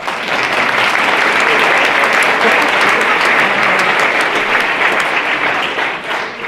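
Audience applause fills a room at a high school football season meeting for players and parents, a steady dense wash of many hands clapping at close range, loud and sustained throughout with a faint voice underneath.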